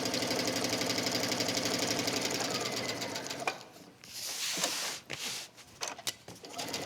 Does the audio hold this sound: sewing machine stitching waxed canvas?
yes